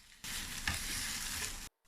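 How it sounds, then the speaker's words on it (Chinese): Tiger-skin peppers frying over medium-low heat in a pan, a dense, loud, steady sizzle that starts abruptly, holds for over a second with a brief pop, then cuts off. "蒸棋子时，顺便煎点虎皮辣椒，"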